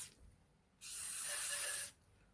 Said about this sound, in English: I'm just going to spray the barrel so that it can just sit and soak